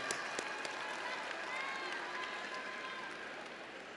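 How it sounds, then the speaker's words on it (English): A Southern University spring commencement audience applauds the campus deans, a dense, steady wash of clapping and crowd noise that carries evenly through the whole stretch. "Give your deans a round of applause, if you will, Southern University round of applause"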